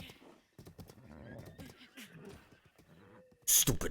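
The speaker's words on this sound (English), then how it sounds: "Stupid horse. One day I shall tame you." A horse in the video game Zelda Breath of the Wild gives a sharp, loud whinny near the end, after a stretch of quieter hoof clatter and game sounds mixed under talk.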